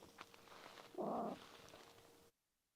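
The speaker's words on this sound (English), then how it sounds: "I have a little cat here." A small cat gives one short meow at moderate volume indoors, set against low room noise that drops to near silence afterward.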